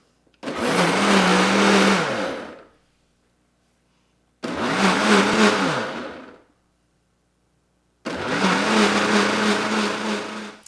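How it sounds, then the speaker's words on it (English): A hot-and-cold blender on its smoothie setting whirs loudly in three bursts of about two seconds each, separated by short silent pauses, its motor whining high and strong as it blends an egg mixture for bread pudding. "turn the hot cold blender on, and I'm just gonna hit smoothie"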